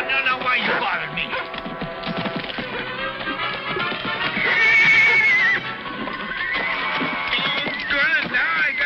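A horse neighs loudly with a rising, shrill whinny, mixed with hoofbeats and a busy, noisy background throughout.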